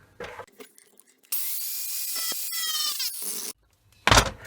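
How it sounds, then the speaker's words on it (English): An angle grinder bites into a metal shaft of aluminium or alloy for about two seconds, a loud, close, harsh squealing grind between quieter handling knocks, followed by a sharp clunk near the end. "So we'll hit it with the grinder"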